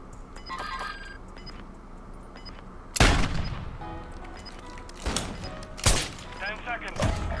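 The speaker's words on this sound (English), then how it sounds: "Oh, I shot way too early." Gunshots in Modern Warfare 3 trickshotting, a few loud sharp rifle cracks spaced a couple of seconds apart over quieter game noise and background chatter.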